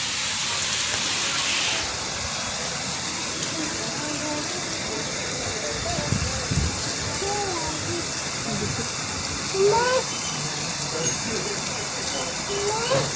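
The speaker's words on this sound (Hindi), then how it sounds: "यार बारिश हो रही है।" Steady rain falls outside a house in India, a continuous broadband hiss of water pattering on surfaces, with children and adults talking nearby and occasional thumps and clatter over the wash.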